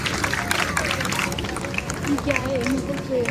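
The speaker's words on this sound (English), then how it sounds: "there we go with a big round of applause for Nanya, our binturongs" Crowd applause at an evening animal show in Singapore, greeting a binturong, dense clapping spread across the audience with voices and chatter mixed in throughout.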